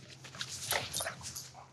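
A pet dog gives soft, high whimpers and yips in a short series of brief, faint cries at close range.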